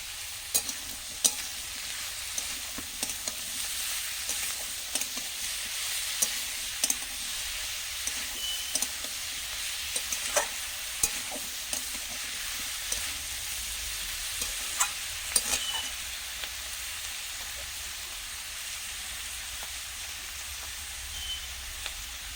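Turmeric and spices frying in a pan, with a steady close sizzle punctuated by frequent scraping stirs and small pops throughout, no voices.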